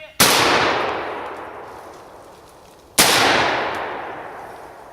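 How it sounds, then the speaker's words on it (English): Two loud, close gunshots ring out about three seconds apart during a squirrel hunt along the Wolf River, each a sharp crack followed by a long rolling echo through the woods. "I shot right on top of that squirrel and he never moved."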